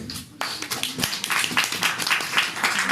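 An audience at a church sermon breaks into brisk clapping after a short pause, a dense patter of hands that builds and carries on for a couple of seconds.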